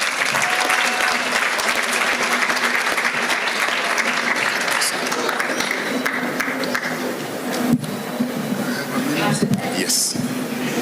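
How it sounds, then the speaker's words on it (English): Sustained applause from a dinner crowd at a jurists' forum, dense and steady clapping that stays loud throughout. "Let us welcome Mr. Gerishon Majanja with a hearty clap."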